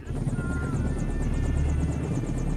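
Black Hawk military helicopter carrying troops, its rotor throbbing in a loud, steady rhythmic chop with continuous engine whine throughout.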